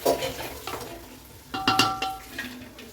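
Tomatoes and ingredients sautéing in oil in a pan for chicken dum biryani, with a spoon stirring and scraping in several close clinks and scrapes over a soft sizzle.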